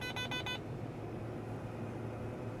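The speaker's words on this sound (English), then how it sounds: "This buzzer going off continuously is my grain tank full buzzer." A combine harvester's grain-tank-full buzzer sounds four quick electronic beeps at the start, then a steady machine drone continues on its own.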